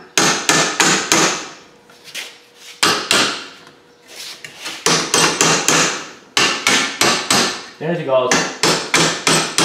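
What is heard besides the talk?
hammering on a pound-on socket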